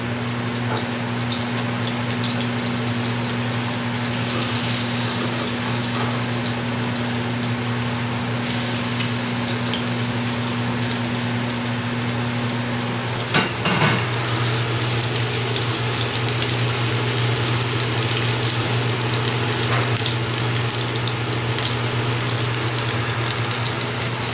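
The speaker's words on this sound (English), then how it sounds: "You can see how the fish is starting to sear on one side." Organic tuna searing in oil in a frying pan gives a steady, close sizzle and crackle that holds for the whole stretch, with a low mains-like hum beneath and one brief clatter partway through.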